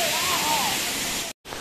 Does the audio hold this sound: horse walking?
no